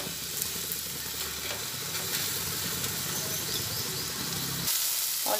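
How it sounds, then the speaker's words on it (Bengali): Fennel and ginger frying in a little oil in a pan, a steady close sizzle with faint stirring scrapes throughout, no voices. "অল্প আছে মৌরি আদা এটা একসঙ্গে একটু ভেজে নিচ্ছি অল্প করে।"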